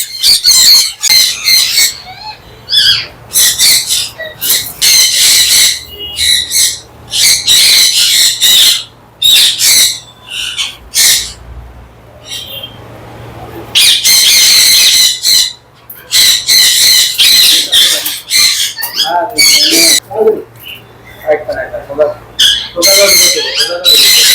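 Pet birds brought from a breeding farm squawk loudly and harshly as they are caught, in dense, overlapping, nearly continuous bursts close by, with people talking in between.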